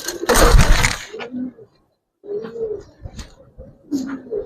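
Giribaz and colouring breed pigeons coo in low, throaty bursts, several rounded calls with short pauses between them, fairly close, after a brief burst of louder rustling noise at the start.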